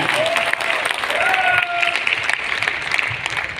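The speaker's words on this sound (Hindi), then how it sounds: "आपको जोरदार तालियां" Steady applause from a seated audience at a marketing calibration program as a woman is welcomed, a continuous dense wash of clapping with a faint tonal voice or music line drifting through it.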